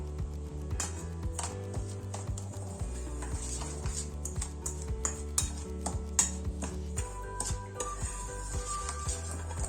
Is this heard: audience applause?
no